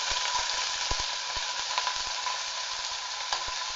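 Garlic, onion and pork sauté in a pan with a loud, continuous sizzle, broken by occasional sharp clicks of stirring, close up.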